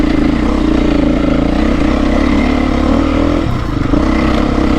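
A Beta 350 Solo dirt bike engine runs loud and close while being ridden on a trail, a steady droning buzz with slight dips in revs near the end and no talking.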